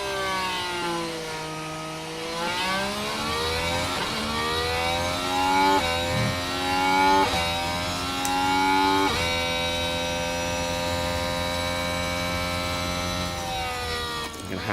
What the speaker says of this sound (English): and listen to the engine note.